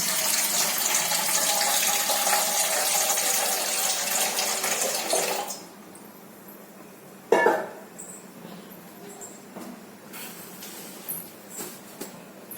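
Water is poured into a pan for rasmalai, a continuous close splashing rush that stops abruptly partway through, followed by quiet room tone with a few light clinks and knocks.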